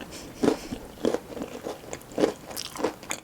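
Bites and chews into a vegan tart with a baked ground-almond crust, several crisp crunchy bites spaced about every half second to second, close and moderately quiet.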